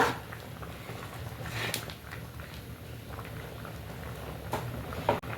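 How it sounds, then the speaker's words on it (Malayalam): Rice porridge (kanji) bubbles in a clay pot, with a soft, continuous burble and gentle popping close by, quiet and steady with no talk. "അപ്പം നന്നായിട്ട് തിള വന്നിട്ടുണ്ട്"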